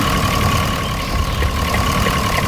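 A farm tractor engine in a farming game idles steadily and loudly with a low, knocking rumble and a constant whine, heard alone without talk.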